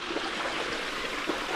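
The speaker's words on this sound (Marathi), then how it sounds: "इथेच आतमध्ये झरं आहे आणि या झऱ्याचंच पाणी हे आपल्याला सर्वत्र दिसतंय." Water from a natural spring flowing and trickling, a soft, continuous gurgling wash heard fairly close with no voices.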